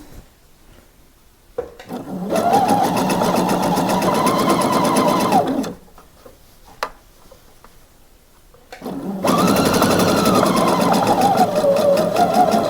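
A sewing machine stitches a blouse in two long steady runs of rapid mechanical whirring, loud and close, separated by a quiet pause with a single click.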